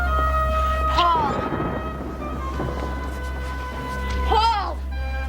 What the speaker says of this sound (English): The storm outside grows wilder, more fierce.